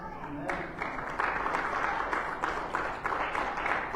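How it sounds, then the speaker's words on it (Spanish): A church congregation breaks into loud applause, with clapping that swells in waves and holds steady for several seconds. "¿Cuántos dan un aplauso al Señor?"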